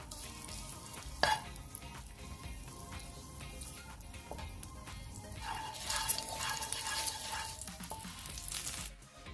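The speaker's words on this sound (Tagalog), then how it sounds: "Lalagay tayo ng butter sa ating frying pan." Butter sizzles in a frying pan for a one-pan Korean-style egg toast, a steady close hiss with faint stirring and scraping over it and a few sharp clinks.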